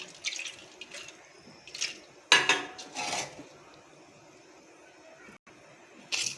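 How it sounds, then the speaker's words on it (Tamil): Half a cup of water is poured into a pot while cooking sweet suzhiyam in a home kitchen, with a few short splashing bursts and light metal clinks between quiet gaps. "அரை கப்பு தண்ணி ஊற்றுறேன்"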